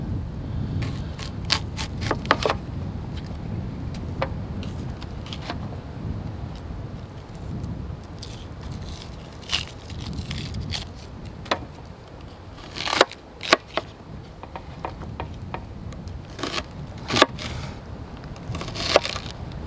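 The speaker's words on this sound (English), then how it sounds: "I've got an onion which I'm just going to cut into chunks" A knife chops an onion into chunks at an outdoor woodland hammock camp, giving irregular close, crisp cuts and taps, some in quick clusters, over a steady low outdoor rumble with no talking.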